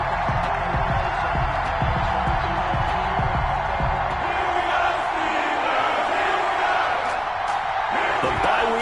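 A steady, dense stadium crowd roars and cheers in an NFL video game before a Washington versus Pittsburgh Steelers matchup, while a commentator talks over the constant wash of crowd noise.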